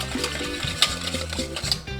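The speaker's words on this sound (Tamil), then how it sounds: "ஒரு விஸ்க் ஏதாவது வச்சு இந்த வெள்ளை சர்க்கரை நல்லா கரையணும்." A whisk stirs white sugar in a mixing bowl for doughnut batter, giving quick, close, light scraping and clinking strokes in an uneven rhythm.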